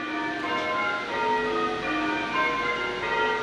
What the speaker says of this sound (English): There's a wedding at the church over the road, so sorry about the bells.